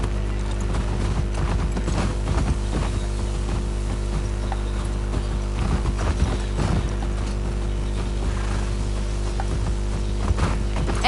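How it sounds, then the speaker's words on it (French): Horse hooves clip-clop at a steady walking rhythm while riding through an abandoned town in The Last of Us Part II, close and loud over a low ambient bed, with occasional creaks of tack and a faint snort. "On monte sur le cheval."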